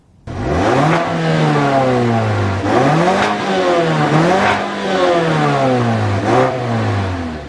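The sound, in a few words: 2014 Mazda6 Grand Touring 2.5-liter Skyactiv engine accelerating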